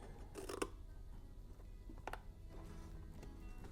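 Scissors cut through paper card in a few soft, brief snips spaced apart, faint against a quiet background, with no voices.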